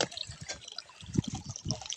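Water runs from a tap into a newly built water tank, trickling and splashing unevenly with soft gurgles, close by, with faint murmurs in the background.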